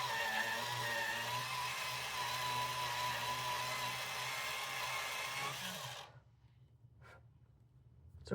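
An electric pencil sharpener grinds a pencil during work on a colouring page, a steady loud whirring buzz for about six seconds that cuts off abruptly, followed by quiet room tone with a couple of faint clicks.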